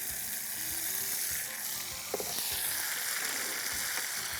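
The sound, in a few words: ground country tomatoes added and frying in oil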